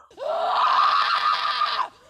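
A woman screams in a horror film, one sustained, loud, shrill cry lasting nearly two seconds, rising sharply at the start and cutting off abruptly.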